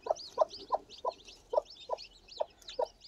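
A brooding hen sitting on her freshly hatched chicks gives a steady series of about eight short, soft clucks at an even rhythm, close by and fairly quiet, with faint higher peeps from the chicks above.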